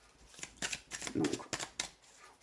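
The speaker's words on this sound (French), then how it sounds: "je prends le tarot Cronelet pour détailler ces cartes" Tarot cards being shuffled close up, several quick riffling bursts in an irregular rhythm, with faint talk beneath.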